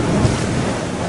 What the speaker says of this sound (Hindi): अरे पानी तो अब घर में भी आने लगा